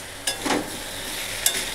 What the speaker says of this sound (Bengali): আগে আমি আদাটা দিয়ে একটু সামান্য কষিয়ে নেব।